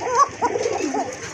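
Pigeons in a breeder's loft coo, a pet pigeon pair kept for sale, with a throaty rolling call repeated several times close up over a faint steady background.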